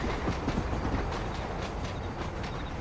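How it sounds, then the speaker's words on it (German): A train pulling away in Red Dead Redemption, a steady mechanical rumble with soft rhythmic clicks of wheels and wagons, moderately quiet and continuous with no voices. "Warten wir jetzt, bis der Zug wegfährt."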